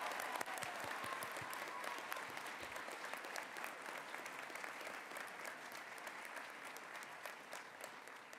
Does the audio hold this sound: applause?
yes